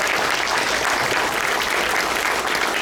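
A packed room at a church Vacation Bible School program claps loudly and continuously for the children, a dense wash of applause with no break.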